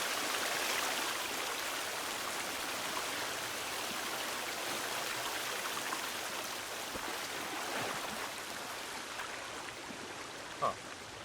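A rushing waterfall in the video game Sons of the Forest, a constant broadband roar of falling water that stays loud and unbroken throughout, with one faint click near the end.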